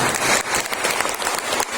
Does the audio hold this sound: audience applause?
yes